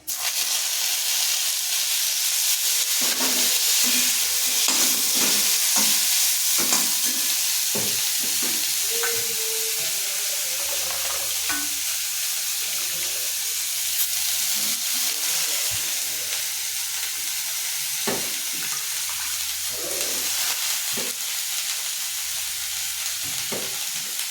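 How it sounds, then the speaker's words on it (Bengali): Leafy greens frying and stirred in hot oil tempered with nigella seeds and dried red chili, a steady loud sizzle punctuated by repeated scraping stirs, with no voices. "এবার আমি শাকটা ভালো করে নেড়ে চেড়ে ভেজে নেব"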